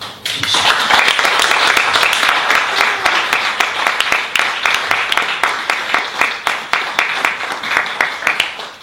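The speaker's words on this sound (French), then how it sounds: "D'applaudir très très fort" Strong, close applause from a crowd at a radio station's tenth-anniversary celebration, dense clapping that holds steady and then thins into more distinct individual claps toward the end.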